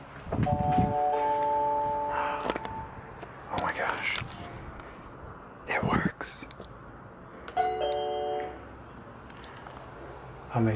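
A Nest doorbell camera, powered through old door-buzzer wires, sounds its tonal chime twice, near and clear, among handling noises and clicks, with a voice speaking softly.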